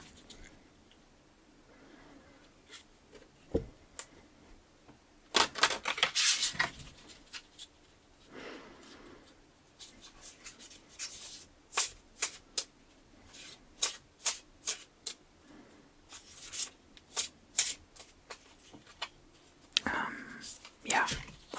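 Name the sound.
tarot cards being shuffled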